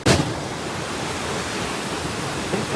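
A waterfall gives a dense, continuous roar of rushing water, close and fairly loud, with no voices over it.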